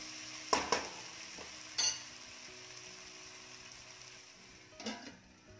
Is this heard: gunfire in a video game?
no